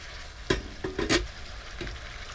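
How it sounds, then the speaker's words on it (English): Meat sizzles in a wok during a quick stir fry on a boat, with a low steady crackle broken by a few louder bursts of stirring and spitting fat, close and without talk. "I'll just let that sizzle up."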